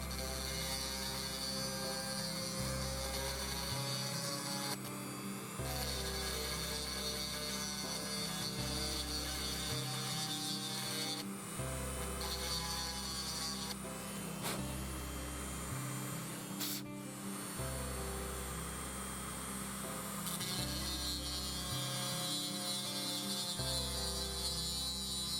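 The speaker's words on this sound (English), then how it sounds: "with this needle file attachment on my Dremel." Dremel rotary tool fitted with a needle file attachment filing a Redline Chaparral 2G, a steady, close whirring rasp that runs continuously with a low hum pulsing on and off at regular intervals.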